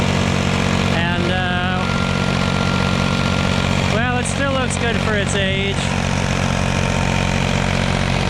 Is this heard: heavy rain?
no